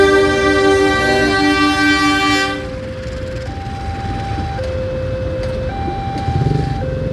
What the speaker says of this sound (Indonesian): kereta api Matarmaja.